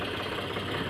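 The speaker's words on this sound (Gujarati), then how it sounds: "અહીંયા અરુણભાઈ હાકે છે ટ્રેક્ટર" A tractor engine runs steadily nearby, a continuous low, rumbling idle with a slight knocking texture and no voices over it.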